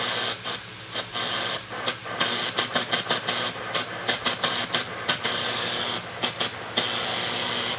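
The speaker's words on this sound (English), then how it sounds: "So that's CW right there." Morse code on a 40m amateur radio band arrives as rapid, irregular bursts of keyed tone over steady static hiss, the dots and dashes fairly faint and continuous throughout.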